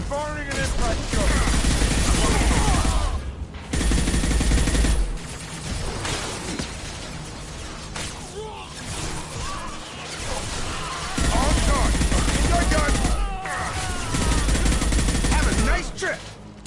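Heavy gunfire in the video game Mass Effect 2 Legendary Edition, sustained loud bursts of automatic shots and impacts that start and stop in long stretches, with crashes and combat chatter mixed through the din.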